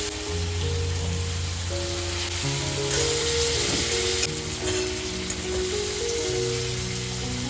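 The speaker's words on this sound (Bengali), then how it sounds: "আলুটা একটু ভাজা ভাজা হয়ে গেলেই কিন্তু পনিরটাকে দেবো।" Potatoes frying in a pan, a dense, even sizzle heard up close and running without pause, with no one speaking over it.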